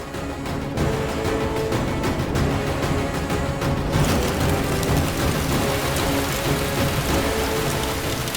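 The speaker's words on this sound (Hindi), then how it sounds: "ये अचानक से बारिश कैसे होने लगी?" A sudden downpour drums steadily and loudly on surfaces, a dense continuous hiss of rain that fills the scene without pause and without any voices.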